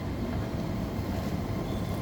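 A train sounds at a railway station on a holiday afternoon, giving a steady, low rolling rumble of rail cars with no break or voices.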